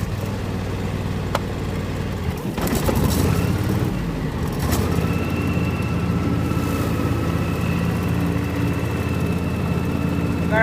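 A tractor pulling a brush hog mows a field with standing water, its engine droning loud and steady close by, with a rough shift in load partway through before settling into a constant heavy hum.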